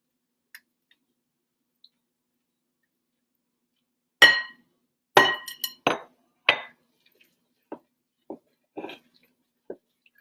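A utensil stirs pancake batter in a glass bowl, making a string of sharp, separate clinks against the glass with short gaps between them, fairly close and with no talking.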